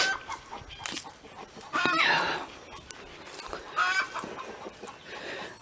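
Chickens cluck in short bursts, fairly close, with a louder flurry of clucking partway through over quiet outdoor background.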